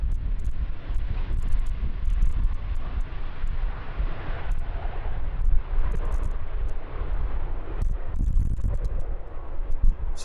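A fixed-wing airliner arrives at Amsterdam Schiphol in gusty wind, its engine roar a steady broad rumble blended with heavy wind buffeting on the microphone, moderately loud and continuous, with no speech.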